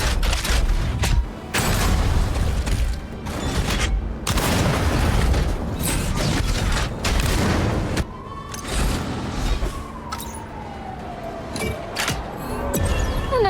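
Frida's twin arm-mounted shotguns blast shells in a Mecharashi mech battle, a loud, dense barrage of booming shots with brief gaps, easing into quieter mechanical whirs and sweeping tones near the end.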